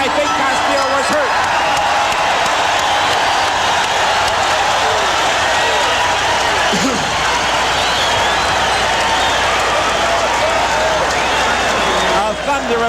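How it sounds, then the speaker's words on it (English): A packed boxing arena crowd roars in a sustained, loud ovation after an exchange between Julio Cesar Chavez and Ruben Castillo in 1985, with a commentator talking over it. "A thunderous ovation from this crowd"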